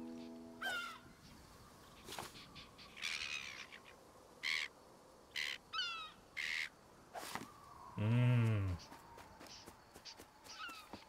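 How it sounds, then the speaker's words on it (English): Black-headed gull calls in the wildlife video game Alba: A Wildlife Adventure, several short harsh squawks in scattered bursts over faint ambient noise, with one louder lower call near the end. "A black-headed gull."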